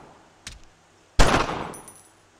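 Gunfire in the World War II shooter Brothers in Arms: Road to Hill 30, a faint early shot followed by one loud close blast that rings and decays over about a second.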